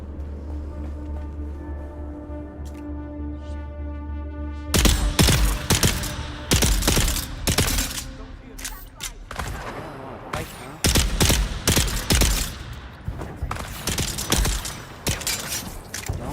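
Gunfire in the video game Dune, with a quiet humming stretch giving way to loud bursts of rapid shots and crackling impacts that come in clusters, near and intense, over a low steady drone.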